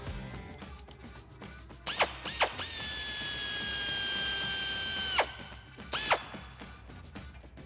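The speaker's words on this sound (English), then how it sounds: "we're also going to remove this small 10mm bolt" A power tool or ratchet backs out a small 10mm brake line bracket bolt under a Jeep Wrangler JK. Short clicking bursts lead into a steady whirring run of a few seconds, followed by more brief ratcheting bursts.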